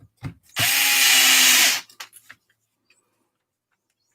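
A power driver whirs for about a second, driving a screw into a Losi Lasernut RC truck's bumper brace. Brief clicks and handling noises come before and after it.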